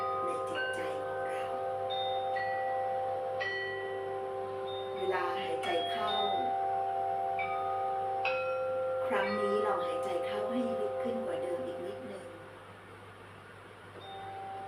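Soft bell chimes ring out and sustain over a calm ambient drone, while a gentle voice speaks quietly beneath.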